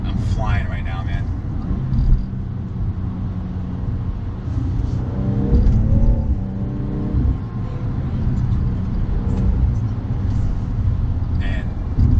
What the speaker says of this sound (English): I don't know if you can hear the engine, but the shifts are instantaneous, just like that.